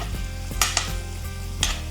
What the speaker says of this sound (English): I'm going to let that saute down for a minute.